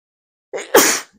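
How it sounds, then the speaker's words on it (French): One person sneezes once, loud and close, with a short intake of breath before the burst, during a tabletop card game. "un petit éternuement passager"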